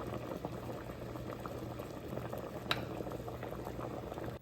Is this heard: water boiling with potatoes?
yes